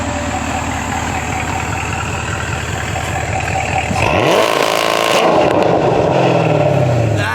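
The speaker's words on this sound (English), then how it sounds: "I've never heard a launch control sound like that." Chevrolet Camaro ZL1 1LE held on launch control: a loud, steady high-revving engine drone with rapid pulsing, then a sharp rise into an even louder, harsher roar with crackling exhaust, close by.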